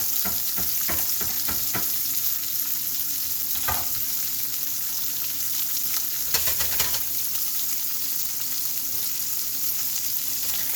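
Shrimp and sun-dried tomatoes fry in a hot pan with a steady, dense sizzle, punctuated by a few crackles and brief stirring scrapes, close and continuous throughout.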